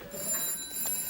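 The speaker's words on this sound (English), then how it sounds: "The phone!" A telephone rings indoors in a British sitcom scene, a short, fairly faint electronic trill with two bursts over a quiet room.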